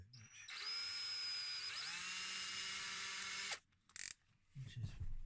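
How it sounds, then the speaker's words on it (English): An electric drill runs steadily for about three seconds, boring pilot holes with a tapered drill bit while installing points and motors. Its pitch whines high and shifts slightly, then it stops, followed by a brief second burst and a soft clatter. "I've been using a tapered drill bit"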